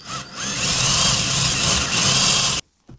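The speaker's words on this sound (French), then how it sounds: "je vais juste visser dans le bois" Power screwdriver driving standard wood screws into wood on a backyard chicken coop build, a steady whirring drill drone lasting over two seconds, then cutting off abruptly into near silence with a short final burst.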